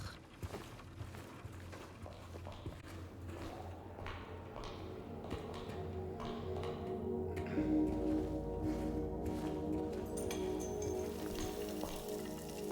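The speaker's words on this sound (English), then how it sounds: "A stroll in the rain." Steady rain falls in the Silent Hill 2 Remake video game, a continuous broadband patter with scattered drips and soft taps. Low ambient tones sit beneath it, and the rain grows slightly louder partway through.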